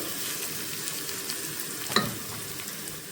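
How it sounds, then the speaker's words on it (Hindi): Ingredients for peas pulao sauté in a hot pan with a steady, close sizzle and crackle of oil, broken once by a brief clink of a stirring spoon; no one speaks. "इसको भी हम 1 से 2 मिनट अच्छे से भून लेंगे। इतना भूनेंगे इसकी खुशबू जो है वो आ जाए।"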